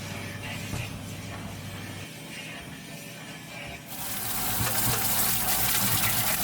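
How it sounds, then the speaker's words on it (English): Brake drums being washed with soap and water, including the inner bearing areas: steady running water and scrubbing that swells into a louder, hissing gush of spray partway through, with no talking. "Here I'm just giving the drums a good washing with soap and water"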